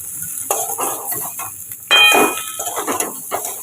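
Ginger-garlic paste, green peas and ground spices such as coriander, cumin and Kashmiri chili powder sautéing in a wok, with soft sizzling, scraping and stirring clatter and one sharp metallic clink midway.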